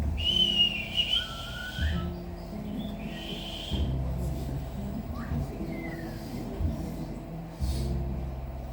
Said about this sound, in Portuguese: Todo mundo consegue assoviar?